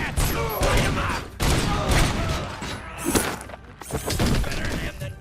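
Rapid gunfire in the video game Robocop: Rogue City, with bursts of shots, thuds and impacts stacked densely over several seconds. The firing is loud and close, and voices shout faintly beneath the barrage.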